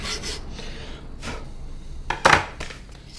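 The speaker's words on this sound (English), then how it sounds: "Just going to file the bamboo down a little bit so it's not so sharp on my hands" Bamboo peg being filed by hand, several irregular rasping strokes close by, with one louder scrape near the end.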